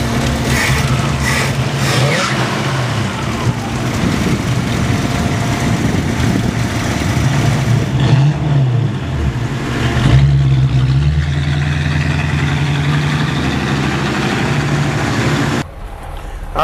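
A 1955 Ford Fairlane Custom classic car engine runs loud and close, rumbling steadily and rising in revs as it pulls away, the drone continuing throughout with only a brief dip near the end.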